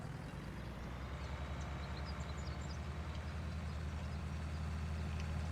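Tractor engine in Farming Simulator 19 pushing hard up a hill, a steady loud low drone with a throbbing rumble that holds constant throughout, alone without talk.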